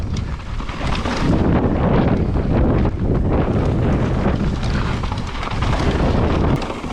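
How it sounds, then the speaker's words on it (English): Strong wind sweeps across the Fort William World Cup mountain bike track. Loud, continuous roaring gusts buffet the microphone throughout, with no voices. "Still as windy."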